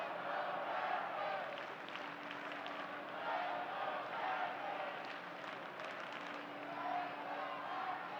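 Steady crowd roar from a soccer stadium during Real Salt Lake versus Colorado Rapids in the US Open Cup Round of 16, a continuous broadband murmur with scattered shouts and chanting, moderately loud and unbroken throughout.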